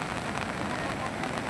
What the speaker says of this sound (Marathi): रोकडा सारगाव येथे अति पाऊस आहे